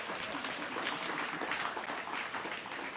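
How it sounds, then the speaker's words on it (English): An audience at a government school ceremony claps continuously, a dense, even wash of many hands at steady volume with no pauses or talk. "you have to really clap"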